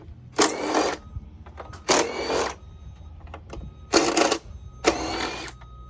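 A power drill fitted with a 5/16 bit spins out side panel screws during an engine oil change, in four loud, close whirring bursts of about half a second each, separated by short pauses.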